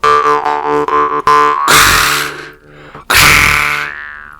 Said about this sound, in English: So now I'm going to roll my R's, this time with a Doromb Blackfire.